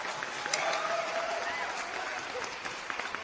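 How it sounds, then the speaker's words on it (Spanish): A crowd applauds a speaker at an engineering meetup, steadily, a dense wash of clapping with a voice or whistle rising briefly above it. "Demos el aplauso, por favor, Irina, los aplausos para Claudio Colán."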